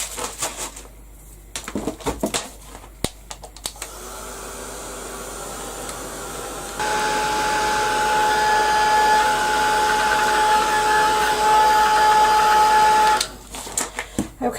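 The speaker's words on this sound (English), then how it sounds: "I'll give that a quick blast with the heat gun." A handheld heat gun blows hot air in a long, steady whooshing roar with a whine. The blast lasts several seconds, then cuts off, with clattering handling noises on either side.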